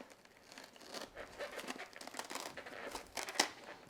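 A blade cuts through a foam organiser insert for a Stanley Pro organiser, giving a steady crinkly scratching and tearing texture, close and quiet, with a sharper snap near the end.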